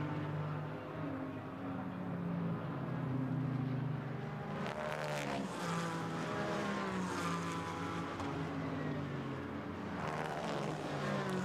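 A GT4 race car during qualifying at Monza sweeps through the Parabolica, its engine a loud, sustained drone that rises and shifts in pitch as it passes, with no commentary heard.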